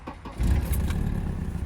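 A Volvo 740/940 with a broken exhaust starts up after a few short cranking clicks, then settles into a loud, rough, rumbling idle, close by.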